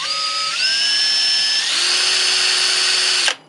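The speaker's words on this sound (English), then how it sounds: "Get you a good sharp center drill." A sharp center drill bites into a broken-off bolt, a steady high metallic whine that shifts pitch upward as it cuts, loud and close, then stops abruptly.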